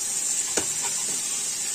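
Pizza stuffing with oregano, chili flakes and salt cooking covered in a pan, a steady bright sizzle and hiss with a couple of soft clinks, close and continuous.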